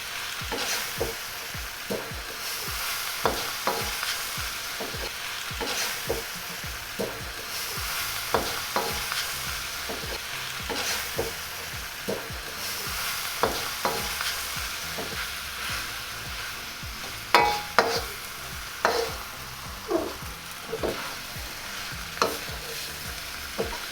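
Shanghai lo mein noodles being stir-fried in a pan, with a steady sizzle under repeated scraping and tossing strokes that come at an irregular rhythm, close and fairly quiet.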